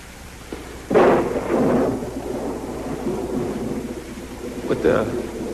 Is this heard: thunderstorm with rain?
yes